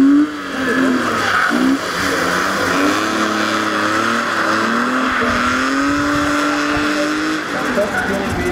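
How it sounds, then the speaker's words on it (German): A drift car at a drift challenge event at Lang-Lebring, Austria, spins out, its engine wailing and revving in long, wavering tones with tire noise and an ongoing roar, while a commentator talks over it throughout. "Und ein Dreher von Mike Schalling, hier Ausgang der Bus."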